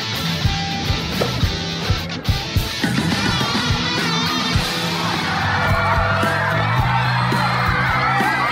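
A film crowd cheers after a match with loud, sustained whoops and yells, a dense roar of many voices that swells and stays steady throughout.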